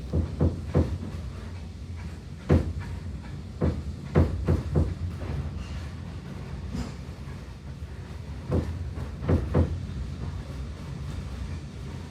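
A diesel locomotive, D7018, rumbles past on a heritage railway with a steady low drone, punctuated by repeated clunks and rattling thumps from the wheels and cars.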